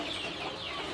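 Sentul village chickens on a farm, a brief burst of clucking and fowl chatter amid farmyard background noise, moderately close and steady, no talking.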